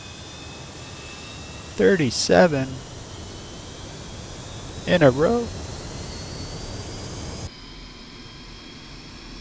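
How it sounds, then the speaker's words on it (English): Airliner jet engines spool up from a cockpit, a steady broadband roar with a thin high whine running continuously while someone speaks briefly twice over it, before the sound cuts off abruptly. "Here we starting the engines."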